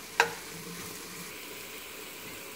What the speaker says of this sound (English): the reason we saute the vegetables first is so we could get all the flavors come together